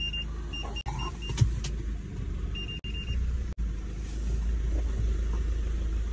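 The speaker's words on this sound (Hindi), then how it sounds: "चलो भाई गाड़ी अंदर कर दे एक बार।" A car is driven inside an enclosure, its engine rumbling steadily at close range with a few brief clicks and beeps and a rising hum near the end; no one speaks.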